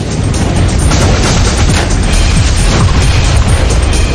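A massive explosion on a North Sea oil platform roars as a loud, sustained rumbling blast with crackling bursts, dense and overwhelming throughout.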